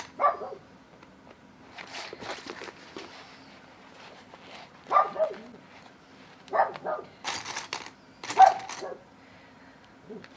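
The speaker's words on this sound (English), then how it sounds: "That's my dog outside, if you can hear a dog barking." Scattered dog barks in short separate bursts, faint and distant as if outdoors, against a quiet room with a low hum.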